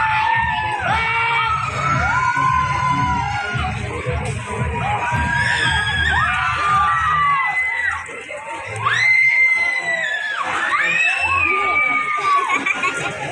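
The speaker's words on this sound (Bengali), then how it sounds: "ওখানে দাঁড়িয়ে থেকে প্রচুর মানুষের চিৎকারের আওয়াজ পাচ্ছি" Many people scream and whoop together on a swinging boat ride at an amusement park, rising and falling in waves of shrieks with crowd noise and chatter underneath.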